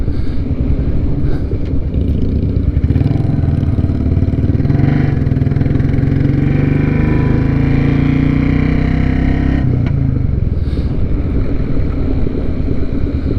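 A Royal Enfield Classic 350 single-cylinder motorcycle on a test ride, its engine thumping loud and close with steady low rumble and wind noise throughout, pitch shifting slightly as the bike changes speed.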